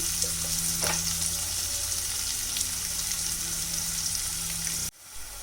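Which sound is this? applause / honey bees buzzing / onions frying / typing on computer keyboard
onions frying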